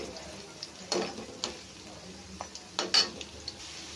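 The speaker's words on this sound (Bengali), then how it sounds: "বাকি মুঠিয়াগুলো ঠিক এইভাবে ভেজে নেব" Sago (sabudana) fritters deep-frying in hot oil, a soft steady sizzle with occasional brief clinks and stirring taps from a utensil, heard close with no talk.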